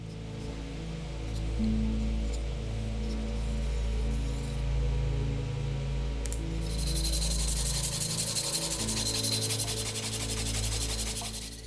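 Hand sanding a steel knife blade with 320 grit sandpaper, a steady close scratchy rubbing that becomes brighter and harsher partway through, over a constant low hum.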